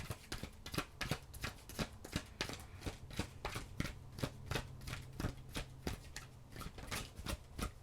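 Tarot cards are shuffled by hand in a quick, rhythmic series of riffling snaps and slaps, heard close and repeating steadily throughout, with no talk over them.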